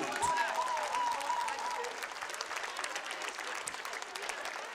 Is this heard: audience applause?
yes